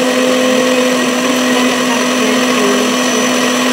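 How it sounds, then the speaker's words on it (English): A blender purees boiled tomatoes for homemade pizza sauce, a loud, continuous, close motor whine with a steady pitch that holds without a break. "So I'm blending my tomatoes"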